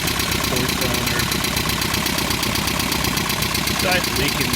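A Toyota 22RE four-cylinder engine that leaks oil and has an exhaust leak idles roughly, a loud, continuous chugging rumble with uneven ticking pulses, running steadily throughout.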